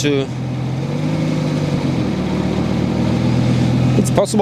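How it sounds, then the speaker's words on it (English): A turbocharged Lamborghini on a road drive test of a new clutch hums at steady low engine revs with a continuous drone, while someone talks over it. "I'm test driving the new clutch, and it's actually working a little bit better than I thought."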